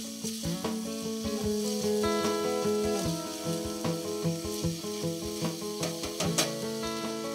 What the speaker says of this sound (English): you want to let them cook like this on medium heat, not higher than medium. Stirring attentively to make sure that nothing sticks at the bottom of the pan.